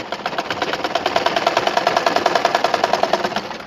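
A sewing machine stitches fabric for a Quran cover at home, a steady rapid mechanical whir with evenly ticking needle strokes running close and continuous throughout.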